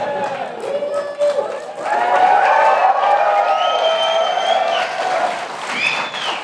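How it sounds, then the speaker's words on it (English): Crowd at the White House Tribal Nations Summit breaks into applause and cheering, building from scattered claps into a loud sustained roar with whoops and voices mixed in, then easing off near the end. "Well, you should be clapping."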